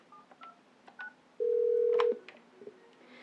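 A Mitel 6900 desk phone gives a single steady electronic tone lasting under a second, with faint beeps before and after it, in a quiet room with no talking.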